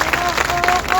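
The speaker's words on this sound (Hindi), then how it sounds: "जोरदार ताली बजा करके उनका स्वागत करिए।" Loud rally crowd applause with steady dense clapping filling the moment, while a voice carries on over it.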